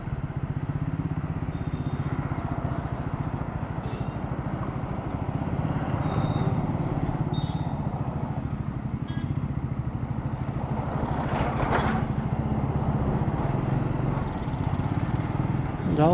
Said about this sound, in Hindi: ओह इतनी जल्दी गियर चेंज हो रहे हैं।